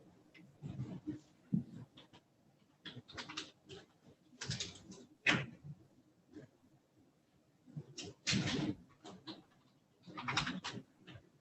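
Someone typing on a computer keyboard in bursts of rapid, close clicks separated by pauses, with no talk over it.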